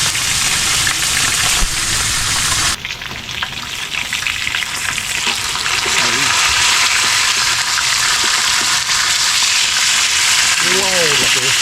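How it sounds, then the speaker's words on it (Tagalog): Loud, dense sizzling of food frying in hot cooking oil, a continuous crackling hiss close by with occasional stirring and a brief muffled voice near the end. "Sabi mainit ang mantika."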